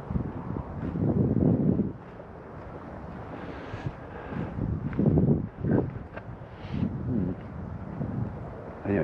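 Gusty wind blows across an open outdoor field, buffeting the microphone with low, rumbling surges that rise and fall over several seconds.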